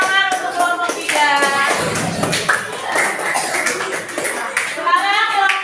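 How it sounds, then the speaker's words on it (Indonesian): A classroom group claps for group 3, with a steady patter of applause mixed with children's voices and chatter throughout. "Kasih tepuk tangan untuk kelompok 3."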